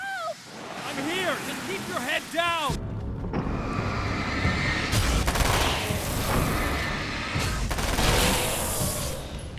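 Submachine gun fire in Alan Wake's American Nightmare, sustained loud bursts of rapid shots with sharp onsets around the middle and end, following a short stretch of synthetic tones.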